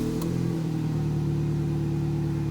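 A 2010 car with a large vacuum leak runs at a steady, fairly loud idle close by, a constant low engine drone with a brief higher click near the start.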